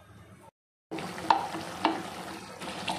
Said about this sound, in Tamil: 2 நிமிஷம் கிரேவி கொதிக்கட்டும்.